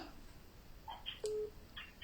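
A phone gives short beeps, one longer tone and faint chirps as it dials, close and fairly quiet over a low hiss with no talking.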